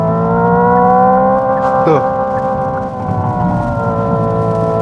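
Hyundai Ioniq 5 N 2025 electric car playing its simulated engine sound held at redline in first gear, a loud steady multi-tone howl with a brief blip partway through and a short spoken sound.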